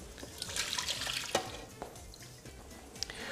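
Water pours out of a container into a kitchen sink in short splashes and trickles, then tails off into a few drips, heard close and fairly quiet with no talk.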